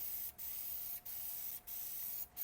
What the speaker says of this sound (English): now we're spraying again